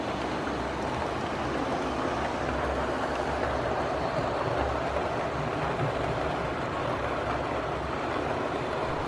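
A model Bulleid Class D16/2 1Co-Co1 diesel locomotive running over set track points at a crossover, a steady close rolling rumble with a faint rhythmic clatter throughout.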